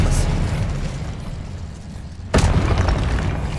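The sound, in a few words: spell explosions from the video game Hogwarts Legacy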